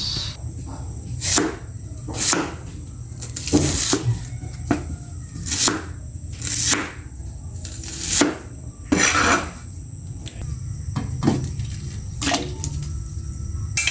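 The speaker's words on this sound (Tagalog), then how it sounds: "hiwain na natin ito. Ayan, sibuyas" Knife chopping onion on a board for catfish tinola, a series of sharp, irregular thwacks close up, some in quick pairs, over a low steady background hum.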